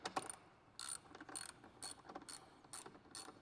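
A ratchet loosening bolts on a Ford Bronco hardtop, heard close up as quick bursts of fine clicking separated by brief pauses, with no talking.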